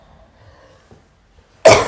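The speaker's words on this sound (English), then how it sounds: "I'm going to clear my throat." A single sharp throat clear bursts out near the end after a nearly silent stretch with faint breathing, close and fairly loud, during a guided group breathing session.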